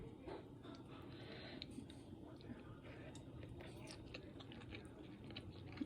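Close, quiet chewing of a bite of makki roti, a corn flour flatbread, with beans and tomato, soft moist crunches and mouth sounds repeating irregularly, no talk.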